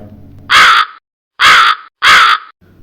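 A crow caws three times, loud and close, each harsh call about half a second long with short gaps between, over a faint low background.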